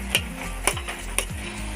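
Ash gourd (chal kumro) curry being stirred in a pan, three evenly spaced scraping clicks of a utensil against the pan over a soft background hiss, no talking.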